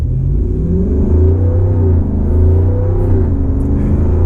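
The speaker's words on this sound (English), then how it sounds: "we can roll into the throttle here and accelerate onto the highway and see how this thing feels" A Jeep Wrangler Unlimited 392 Xtreme Recon with an 8-speed transmission pulls away from a complete stop onto a highway. Its deep engine rumble and exhaust note climb steadily and stay loud and close throughout, with no voices.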